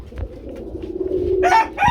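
Pigeons at a pigeon market, soft low cooing running through, then a couple of louder bird calls close by near the end, with background noise underneath.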